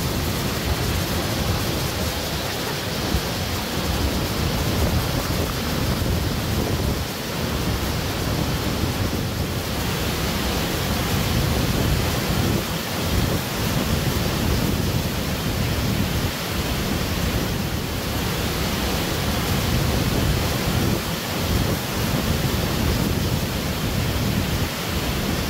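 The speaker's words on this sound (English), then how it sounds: "we're now on the side of the falls, and it's incredible how much different the sound is" Roaring waterfall heard up close from beside the falls in a mountain landscape, a dense, steady wall of rushing water that stays loud and unbroken throughout, with no voices over it.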